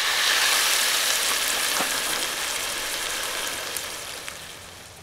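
Fajita meat frying in a pan at a rainy Florida hunting camp, a loud, dense, steady sizzle that slowly fades a little, with a few faint pops and no talking.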